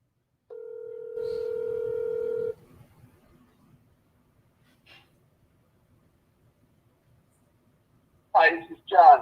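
A steady telephone dial tone sounds for about two seconds as a sales caller starts a call, followed by quiet line noise and a short burst of voice near the end.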